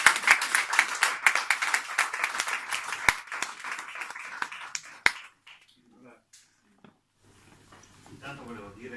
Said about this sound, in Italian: C'è scritto applauso.